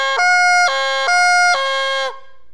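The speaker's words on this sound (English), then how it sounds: "blow steady air pressure into the call, go from note number 1 to note number 2," Goose flute call blown with steady air, snapping back and forth between a lower and a higher note in a loud, clear, reedy tone, repeated several times, alone and close.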